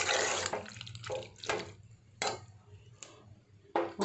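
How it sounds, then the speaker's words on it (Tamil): Water is poured into simmering coconut milk for adai pradhaman, a Kanyakumari-style dessert. Several short splashy bursts of pouring come close up, separated by quieter pauses. "ஒரு கால் கப் தண்ணி ஊற்றி இது கொஞ்சம் நல்லா வேகட்டும்"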